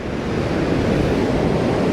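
Ocean surf rolling onto the beach at Monknash during shore fishing, a loud continuous wash of breaking waves mixed with wind rumble, no voices.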